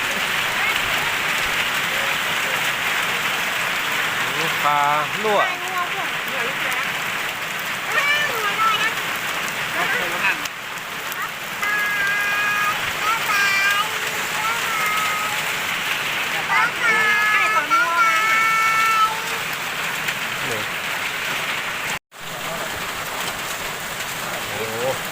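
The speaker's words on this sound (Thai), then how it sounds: "บรรยากาศฝนตก" Steady rain falls in a forest, a dense, even hiss of drops on leaves and surfaces running the whole time, while people talk intermittently close by.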